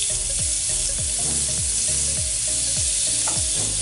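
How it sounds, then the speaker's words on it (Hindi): Capsicum, onion and garlic sauté in hot oil in a pan, a loud constant sizzle broken by rhythmic scraping stirs about twice a second, with no voices. "कैप्सिकम और प्याज और गार्लिक को थोड़ा सा हम कर लेते हैं"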